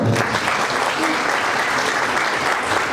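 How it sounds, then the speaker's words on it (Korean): Wedding guests applaud steadily as the bride's father is welcomed at a ceremony held without an officiant, a full, even roar of clapping throughout. "우리 신부 아버님을 큰 박수로 모셔보겠습니다."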